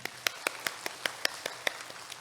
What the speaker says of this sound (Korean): 우리 교회와 함께 우리 마음을 대서 박수로 환영하도록 하겠습니다